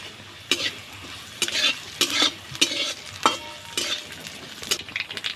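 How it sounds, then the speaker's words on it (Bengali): Black cumin seeds fry with garlic in an oiled pan under a low sizzle. A spatula stirs and scrapes the pan in repeated loud bursts about every half second, close up and with no talking. "কালো জিরেও আমি ভেজে নেব।"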